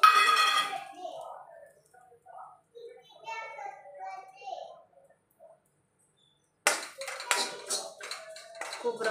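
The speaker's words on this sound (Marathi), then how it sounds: "आता ह्याच कढईमध्ये थोडं खोबरं भाजून घेणार आहे." Grated coconut dry-roasting in a kadhai, with a burst of scraping, clattering stirring near the end, after a stretch of faint voices and near silence.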